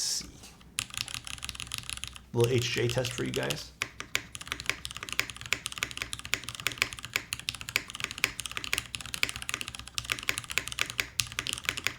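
Brisk typing on a Milan TKL mechanical keyboard with a top-mount aluminium case: dense, steady clacking keystrokes, close and fairly loud, with a short spoken remark near the start.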